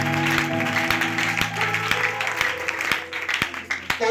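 A church or preaching audience applauds in a dense wash of clapping, with sustained tonal music or organ chords and sharp percussive hits layered through the sound.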